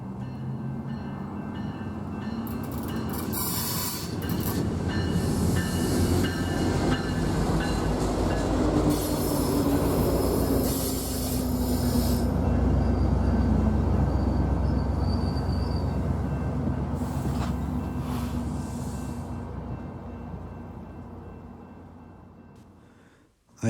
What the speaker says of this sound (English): After this train reaches the Santa Fe station, he loads up on passengers and heads south as Express Train 101.